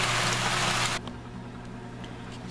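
Water gushes from an RV portable washing machine into a bucket, a dense, loud rain-like splashing that stops abruptly about a second in, leaving a low hum and faint background sound.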